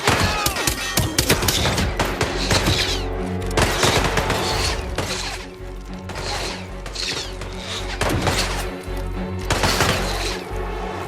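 Heavy gunfire in Hitman 3 during a firefight: loud volleys and sharp shots mixed with clanking weapon mechanics and thuds, sustained and close across the whole passage, no speech.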